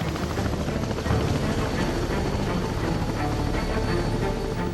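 A helicopter flies over Antarctic sea ice, its rotor chop a loud, continuous, close thudding roar with no voices.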